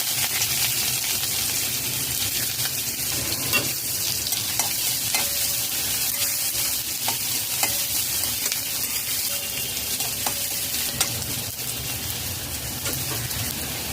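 Chopped onion fries in a pan with whole cumin seeds and a pinch of asafoetida, a loud, continuous close-up sizzle with occasional small pops and stirring clicks throughout, without any speech.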